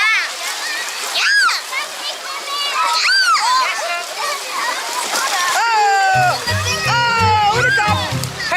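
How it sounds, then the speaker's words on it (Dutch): Splashing and sloshing of water on a hot day at a swimming spot, busy and close, with children's voices and excited chatter running over it throughout. "Ik zal aan nog even een frisse duik nemen"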